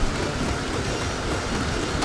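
A constant downpour in the video game Don't Starve Together, a loud, even, broadband hiss of rain that continues without pause.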